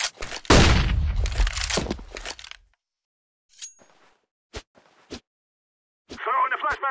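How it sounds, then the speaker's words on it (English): A flashbang grenade thrown in a video game: a sharp loud bang with ringing crackle that decays over about two seconds, followed by quieter scattered clicks and a brief electronic tone near the end. "Throwing a flashbang"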